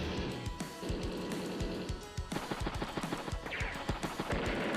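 Combat exchange in Advance Wars: Days of Ruin as a battlecopter attacks an anti-tank unit: dense, continuous rapid impacts and bursts like gunfire and crashes with rhythmic low thuds, loud throughout with no voices.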